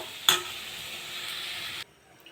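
Salt and coriander leaves with roots are sautéed in a pan, a moderate, close sizzle opening with a sharp clink, running steadily, then cutting off abruptly into near silence.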